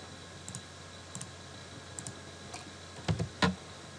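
Typing on a computer keyboard while entering a calculus expression, heard as a few soft single key clicks and then a quick cluster of louder taps near the end, in a quiet room.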